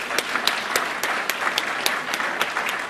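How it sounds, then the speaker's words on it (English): An audience at a 2010 business excellence awards ceremony applauds the board of directors with steady, dense clapping, moderately loud, with a few sharper individual claps standing out. "Please, a round of applause for the board of directors."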